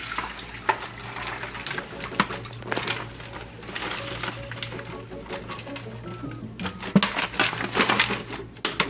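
Water splashing and trickling out of a container of soaking wood chips in uneven bursts, with light clinks and clatter close by.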